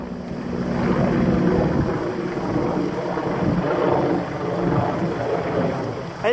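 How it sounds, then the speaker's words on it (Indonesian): A helicopter drones steadily overhead, a loud continuous rumble mixed with gusty wind buffeting the microphone. "Ada helikopter."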